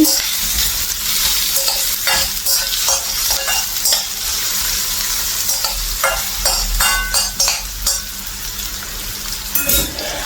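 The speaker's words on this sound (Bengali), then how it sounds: "পেঁয়াজটি একটু ভালোভাবে ভেজে নিচ্ছি" Onions frying in a pan with a loud, steady sizzle, close up, broken by repeated scraping and clinking from a utensil stirring against the pan, with no voices.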